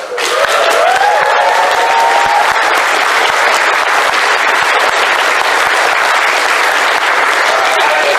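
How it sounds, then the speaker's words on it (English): A conference audience applauds a panel team, a loud, dense, steady round of clapping that fills the clip from start to finish, with faint whoops and cheers rising near the beginning. "That round of applause for them."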